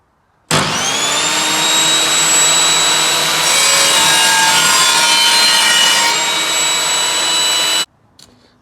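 An Evolution Rage 5S saw fitted with a new multi-cut blade slices through wood, a loud, steady whining cut lasting about seven seconds before stopping abruptly, with a faint clatter afterward.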